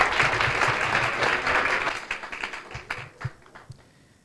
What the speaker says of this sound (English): Big round of applause for Niti